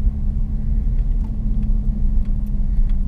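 A Lexus IS300 with a manual gearbox is given gas as it pulls away, heard from inside the cabin as a steady, fairly loud low engine rumble with no speech over it.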